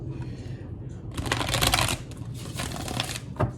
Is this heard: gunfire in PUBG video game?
no